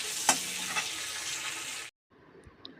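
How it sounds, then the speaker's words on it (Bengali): Hilsa fish frying in mustard oil crackles loudly and steadily with a sharp utensil clink near the start, then cuts off abruptly into near silence followed by faint low rustling. "এখানে ইলিশের তেলটা ভাজাও বসিয়ে দিয়েছি"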